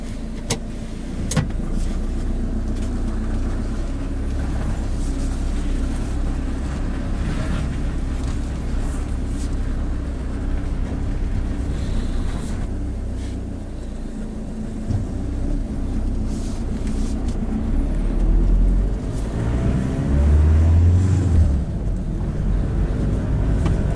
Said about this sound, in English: So this is the first drive home in our new campervan.